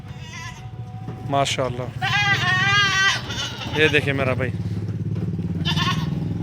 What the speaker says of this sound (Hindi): ये देखें बकरा, आराम आराम ना